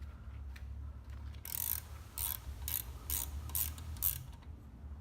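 A ratchet wrench tightens the exhaust bolts on a P.AP Tinox motor, giving a quick run of close, crisp clicks in short bursts over a low hum.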